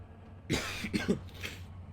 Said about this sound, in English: I'm still got a cough apparently